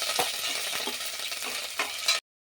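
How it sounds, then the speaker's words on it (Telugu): Mustard seeds, curry leaves, dried red chillies and garlic fry in hot oil as a sambar tempering, giving a steady close sizzle with scraping stirs and a few clinks before cutting off abruptly. "ఆవాలు మన్నాక కరివేపాకు అండ్ ఎండుమిర్చి ఎల్లుల్లిపాయ అన్నీ కూడా వేసి కొద్దిగా ఫ్రై చేసుకోవాలి"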